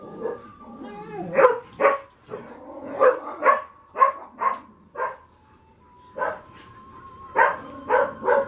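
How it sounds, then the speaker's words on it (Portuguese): Several dogs bark in a rapid, uneven series of sharp yips and woofs, loud and close, some barks overlapping, with brief whimpers between. "Cachorrada escutou um gato miando lá fora e foram correndo lá"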